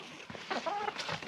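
A hen clucks and squawks while being handled and held by kids on a farm, giving a close, agitated run of short calls with some rustling and no speech.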